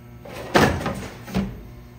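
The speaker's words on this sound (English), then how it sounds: "Telescoping doors." Telescoping door on a commercial dishwasher from the CX20/Admiral series, built on a heavy duty frame, opening and closing: two solid thunks about a second apart, the first louder, with no talk.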